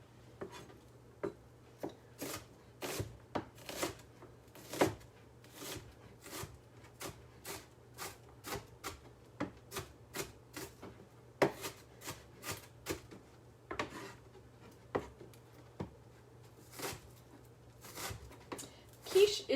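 A knife chops a small onion on a cutting board in a home kitchen, with many quick, crisp taps in uneven bursts and short pauses, close and fairly quiet.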